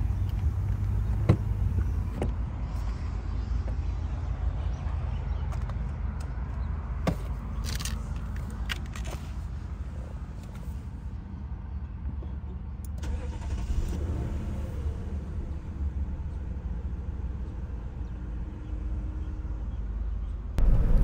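A 2012 Lexus LS 460 with its engine running, a steady low hum from inside the car with a few brief clicks and knocks, and no talk.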